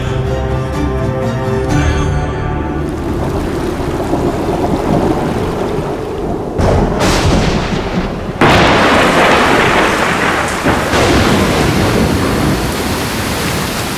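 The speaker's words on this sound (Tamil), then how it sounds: "நல்லா மழை வரப்போகுதுன்னு நினைக்கிறேன்." Heavy rain pours steadily throughout, with loud low thunder rolling and crashing several times in a stormy outdoor scene, and no voices.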